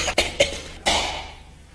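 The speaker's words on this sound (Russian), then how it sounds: "Что ты кашляешь?" An anime character, Alucard from Hellsing, coughs three times in quick succession; the last cough is the strongest and trails off into quiet.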